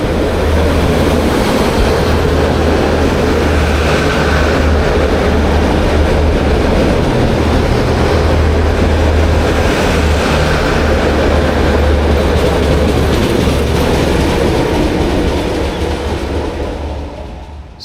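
A Belgrano Sur suburban train in Buenos Aires runs on meter-gauge track, giving a steady, loud rumble with low rolling roar and rail noise that holds throughout and tapers slightly at the end.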